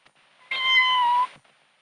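A single loud, drawn-out meow from a cat on a rooftop in a 1946 archival film, lasting under a second, clear and close against near silence.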